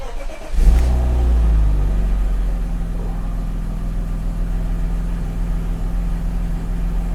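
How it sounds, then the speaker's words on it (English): A BMW E36 engine fires up from cold with a sharp starter burst, then settles into a steady, loud idle with rising revs, close by and with no talking. "Let's give it a quick cold start, eh?"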